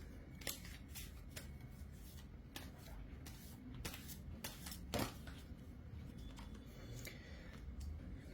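Tarot cards being shuffled and drawn, quiet crisp riffling snaps and sharp paper flicks coming in irregular bursts, close and faint.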